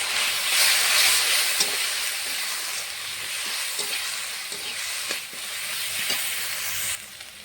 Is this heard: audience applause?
no